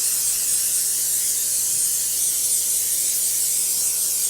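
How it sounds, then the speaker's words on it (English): Cooking spray hisses steadily from an aerosol can onto a brownie baking tin, one continuous close spray lasting several seconds with no talk. "So I'm going to spray her tin so they don't stick."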